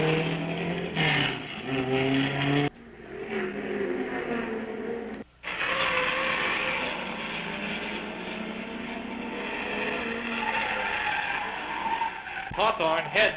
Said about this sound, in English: Ginther leaps into the car and sets out in pursuit of the leaders.